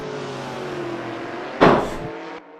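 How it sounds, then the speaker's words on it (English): A race car in the Assetto Corsa sim (HOSS Drivers Championship) pulls down a back straight, its engine tone droning steadily before a sharp loud burst of noise near the end, then cutting off. "Down the back straight he goes. Through the gears."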